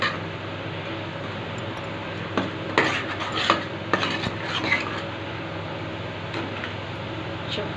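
A masala mixture for village-style chicken curry is stirred in a metal cooking pan, with a steady low background and scattered clinks and scrapes of the spoon against the pan, moderately close.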